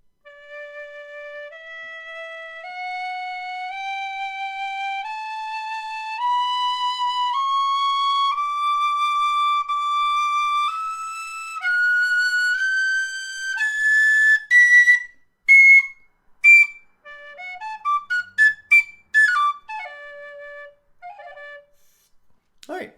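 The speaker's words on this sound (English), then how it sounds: "So first, a scale on the Killarney high D." A Killarney high D tin whistle climbs a scale note by note in clear, evenly held tones, then breaks into quick, short flourishes at the top before stopping.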